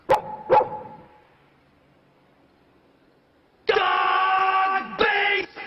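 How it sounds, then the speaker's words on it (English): A dog gives two sharp barks at the start, then after a pause a long, loud, sustained howling bark with one more bark inside it. "Dog"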